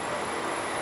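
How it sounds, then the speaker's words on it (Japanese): A tilting limited express, the Super Ozora on JR Hokkaido bound for Kushiro, rolls in with a steady, loud rumble of rail noise and faint wheel squeal, heard up close and alone. "やってきた列車、振り子式の特急スーパー大空号です。"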